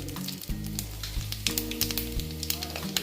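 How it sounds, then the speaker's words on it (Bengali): Bay leaf and white cumin sizzle in hot oil in a pan, a loud and steady crackling fry with a faint tonal hum underneath. "তেলটা আমার গরম হয়ে গেছে আমি তেজপাতা দিয়ে দিলাম তারপরে দিচ্ছি সাদা জিরে"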